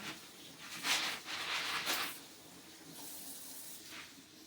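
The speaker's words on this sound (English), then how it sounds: "now I'm rinsing my noodles" Cold water runs from a kitchen tap over gluten-free corn and brown rice noodles in a sink, a faint, continuous hiss and splash that swells and dips in uneven surges as the noodles are rinsed, with no talking.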